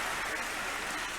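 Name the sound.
applause from audience at event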